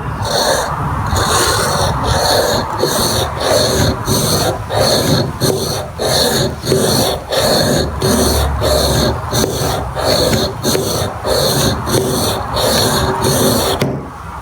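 A steel chisel is rubbed back and forth on an old oil stone, oil and grit on the surface, a steady rasping stroke repeating roughly twice a second, close and loud, with no talk.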